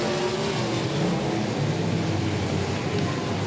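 Dirt track race cars roar around a raceway oval in a steady, continuous drone of engines, loud and sustained with no voices over it.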